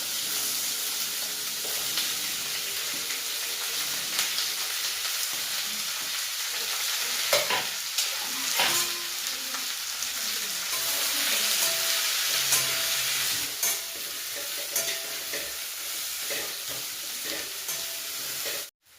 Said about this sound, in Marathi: नंतर जिरे टाकायचे, मोहरी सोडायची, यात छान असा कांदा परतून घ्यायचा.